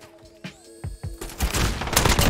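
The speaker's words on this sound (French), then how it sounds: "je tire à travers les murs" Video-game gunfire shooting through walls: a few isolated shots, then a dense, sustained burst of rapid fire growing louder.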